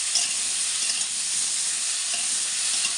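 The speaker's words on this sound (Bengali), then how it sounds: "কিছুক্ষণ এটাকে সাঁতলে নেব।" Bottle gourd sautéing in a hot pan gives a dense, even sizzle that holds steady and fairly loud throughout, close to the ear, with no talking.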